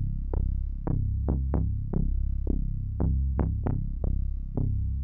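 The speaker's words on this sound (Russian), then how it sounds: "Это был Moog." A Moog synthesizer plays a deep, throbbing bass line of about a dozen plucked, decaying notes in an uneven rhythm, heard alone and fairly soft.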